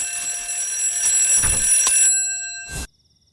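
An alarm clock rings loudly and continuously for almost three seconds in a room, a steady high-pitched electronic tone with a brief burst near the end before it cuts off to silence.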